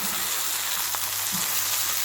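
Peshawari chapli kebabs fry in a pan over medium heat, giving a steady, close, even sizzle and crackle that runs on without pause, with no voices.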